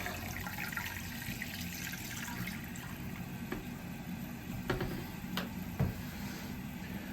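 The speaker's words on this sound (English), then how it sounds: "Turn your water back on, let it fill back up." A toilet tank refills with water after its flapper valve is replaced, a faint steady hiss and trickle of running water with a few soft clunks near the end.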